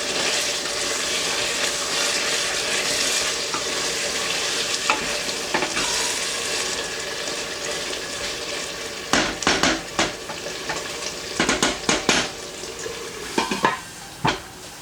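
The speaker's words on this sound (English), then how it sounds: "let's give this another stir." Garlic chicken sizzling in a pan is stirred, a constant frying hiss under a run of sharp scraping and clinking utensil strokes against the pan near the end.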